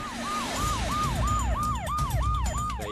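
An ambulance siren wails in a steady repeating up-and-down cycle, loud and close over rumbling traffic, with no talk.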